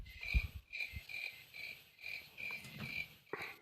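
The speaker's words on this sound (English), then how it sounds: "Give him crickets." A cricket chirping sound effect played as a joke during a DJ talk show, a steady run of evenly spaced high chirps, clear and alone with no talking.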